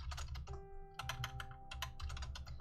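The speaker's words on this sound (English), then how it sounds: "If you can hear my keyboard, it's because I think this is actually a mechanical keyboard I'm using." Someone types on a mechanical computer keyboard in rapid bursts of sharp, close clicking, pausing briefly between runs.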